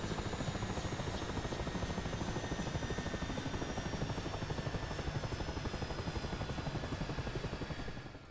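Mi-8 helicopter engines winding down after the fuel is cut in the DCS flight simulator, a steady loud turbine drone with rhythmic rotor chop and high whine, holding level before fading at the very end.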